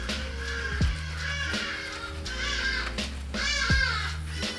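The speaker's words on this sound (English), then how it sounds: "Fucking birds are back." Several crows caw outdoors in a harsh, repeated series of calls spread across a few seconds, fairly close, over a low steady background hum.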